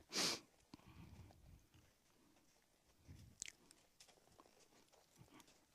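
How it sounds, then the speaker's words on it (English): A horse at a ranch licks and chews softly up close, with faint mouthing and wet chewing sounds, opening with a sharp sniff or snort. "Licking and chewing."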